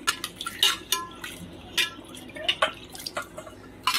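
Dark water from boiled figs poured and strained through a sieve, close splashing drips and light metal clinks in an irregular rhythm.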